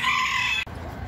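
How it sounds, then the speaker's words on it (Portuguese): Rooster crowing on a farm, close and loud, cutting off abruptly, followed by softer farmyard chicken sounds and faint ambience. "Olha o galo aí."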